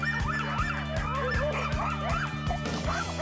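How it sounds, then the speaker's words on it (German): A pack of sled dogs in a Finnish winter yip and bark together, overlapping high calls over a steady rhythmic thumping, busy and continuous. "Für Simon sind Schlittenhunde wie eine Schulklasse"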